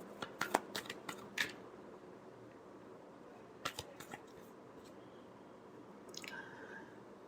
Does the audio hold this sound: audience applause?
no